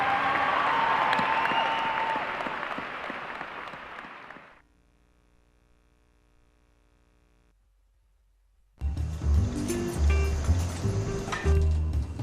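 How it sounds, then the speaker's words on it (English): A crowd applauds loudly for several seconds, fades to near silence, then noisy audio with voices and thumps starts up. "So give yourself a round of applause"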